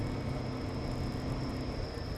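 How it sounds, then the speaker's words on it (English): Crickets chirp at night in Japan, a steady high-pitched chorus that holds an even drone over a low background rumble, fairly faint overall. "You can hear the crickets, they're so loud."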